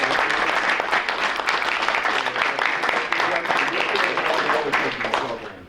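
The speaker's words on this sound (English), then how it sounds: "And we'd like to give you a round of applause." Sustained audience applause for parents and family at a school board meeting, a dense, even roar of many hands clapping throughout.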